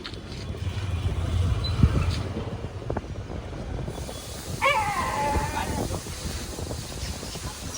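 A rescued street dog whimpers and yips briefly amid low background rumble and scattered noises, with a short high whine midway.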